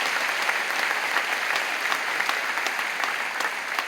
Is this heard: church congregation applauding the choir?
yes